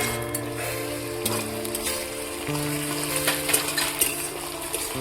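Garlic and ginger paste frying in a pan for a spicy country-chicken curry, a steady sizzle with faint metallic clinks of a utensil, close and continuous with no talk.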